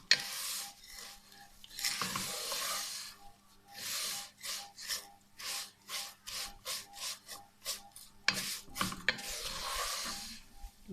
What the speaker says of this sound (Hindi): सिवैयों को भी अच्छी तरह फ्राई कर लेते हैं।